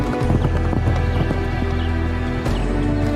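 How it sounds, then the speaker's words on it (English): Hooves of a herd of wild horses roaming open rangeland, a steady dense clip-clop that runs throughout, loud and close over a constant low rumble. "a herd of wild horses roaming the rangeland"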